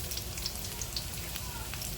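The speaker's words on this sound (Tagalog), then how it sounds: "So ayan, sagisa natin ng bonggang-bongga, bawang sibuyas." Garlic and onion crackle in hot oil in a pan, a dense, even sizzle with fine popping and spitting running continuously at close range.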